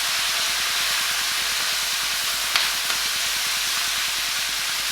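Brussels sprouts and pancetta lardons frying in a pan, a loud steady hiss of sizzling fat with a faint rapid stirring texture underneath and a couple of small clinks, no voices.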